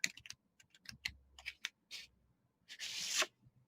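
Cards from a tarot deck handled close up, crisp papery flicks and taps ending in a longer shuffling swish as one card is drawn.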